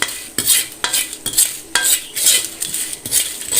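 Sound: stirring dried chillies roasting in a little oil

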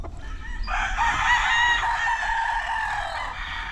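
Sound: chickens clucking and crowing

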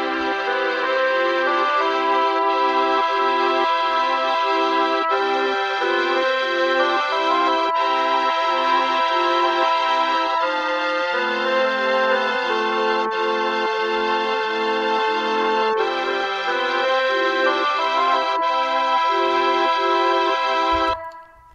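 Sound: three Mellotrons playing a song, Mellotron parts soloed

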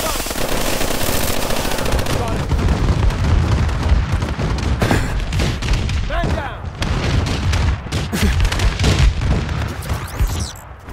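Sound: enemy bombing overhead in video game Call of Duty: Advanced Warfare

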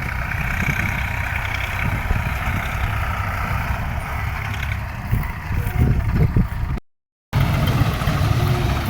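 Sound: tractor engine loading soil

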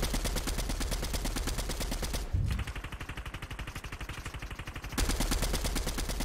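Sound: gunfire from a video game

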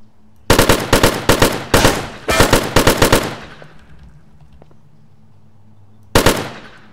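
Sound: AK rifle gunfire in a video game

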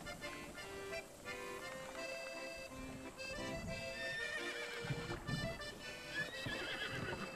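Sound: horse neighing and hooves in Zelda: Breath of the Wild video game

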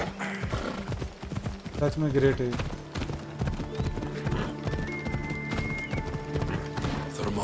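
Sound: horse hooves and neighing in video game Assassin's Creed Odyssey

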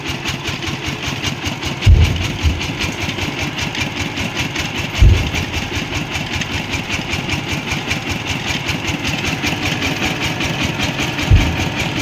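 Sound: vehicle engine revving

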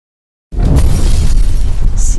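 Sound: beaker of flammable liquid igniting too close to flame

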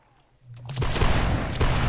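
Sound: musket volley fire in Whigs and Tories video game

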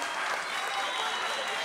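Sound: audience applause for the presenters

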